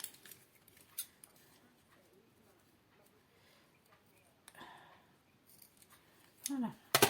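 Scissors cutting craft material while making an Easter basket: a few faint snips against a quiet room, then a louder, closer run of crisp cuts at the end.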